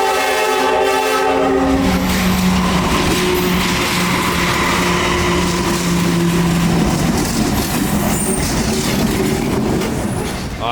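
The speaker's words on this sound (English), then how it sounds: "the southbound juice train" A southbound CSX Tropicana juice train passes loudly and nearby with a sustained horn blast, then a continuous rumble and clatter of wagons rolling by.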